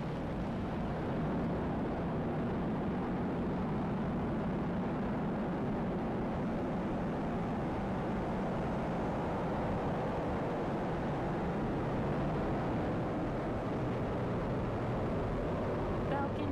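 Deep, continuous roar of a SpaceX rocket lifting off from Pad 39A at Kennedy Space Center carrying the Intuitive Machines IM-1 Odysseus lunar lander, a broad steady rumble that holds loud and unbroken throughout.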